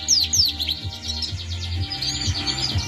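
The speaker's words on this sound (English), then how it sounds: "Birds are all lovely and fit here, doing lengths of the cage." Caged Norwich canaries chirp and trill close by, quick rising and falling tweets layered over a low rumbling background, with a fluttery rapid warble running through the middle.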